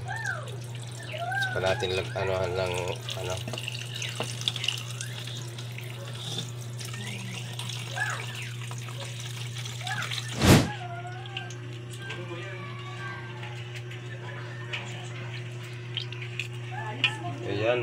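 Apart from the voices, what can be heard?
running water cooling cooked chicken feet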